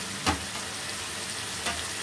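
Gongura chicken being stirred in a pan, with two brief scraping strokes over a steady low sizzle, close and fairly quiet.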